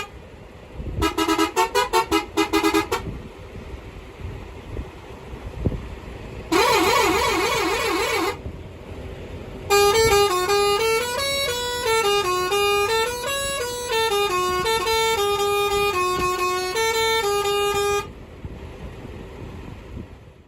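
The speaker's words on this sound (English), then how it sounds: "this is a Punjabi style horn installed in a Western" A Punjabi style musical horn fitted on a Western truck blares in loud bursts: a short rapid warble, a second trilling blast, then a long melodic run of rising and falling tones, with brief gaps of road noise between.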